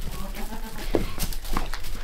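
A goat named Cringy gives a couple of short, close bleats amid farmyard shuffling, with no talking over it.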